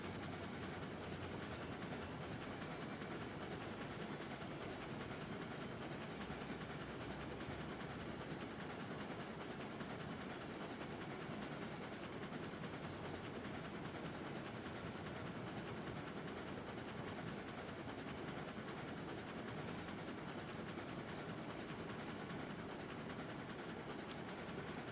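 Train running along a railroad in the Railroads video game, a continuous dense rumble and rattle of wheels on track, steady and fairly loud for the whole stretch with no talking.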